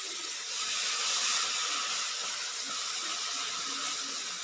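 Masala for a radish curry (moli ka salan), with water added, fries in a pan, giving a steady, bright, hissing sizzle that swells slightly and holds throughout.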